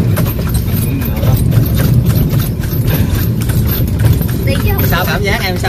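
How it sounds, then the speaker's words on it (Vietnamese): Hooves clop at a steady rhythm under a rider during a horse ride, the beats loud and close throughout, with people talking over them. "Nay mình được đi ngựa rồi nha mọi người."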